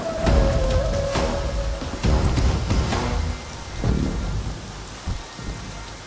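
Steady heavy rain pours down while low rumbles of thunder roll through, with no voices.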